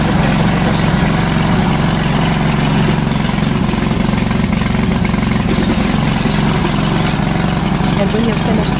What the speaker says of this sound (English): there are three methods to start the gasoline engine